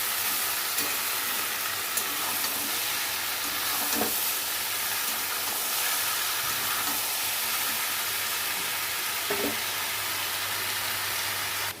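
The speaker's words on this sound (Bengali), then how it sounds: "এখন এটা খুব ভালো করে কষাতে হবে" Spices with a little Kashmiri chilli powder sizzle steadily in an uncovered pan for a cauliflower stem curry, a constant close hiss broken by a few soft stirring knocks.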